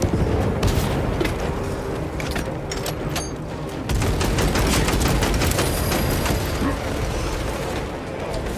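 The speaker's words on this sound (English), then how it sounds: "Frag grenade deployed." Frag grenade explosion in Space Marine 2 amid a dense battle of rapid gunfire and booming blasts, loud and continuous with a sharp surge partway through, voices in the background.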